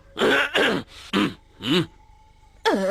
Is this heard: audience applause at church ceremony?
no